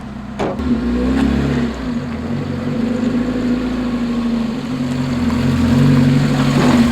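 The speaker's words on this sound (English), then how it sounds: "Now let's pull the car in." A drift car's engine rumbles nearby as the car is pulled into a garage, a steady mid-pitched drone that builds a little louder toward the end.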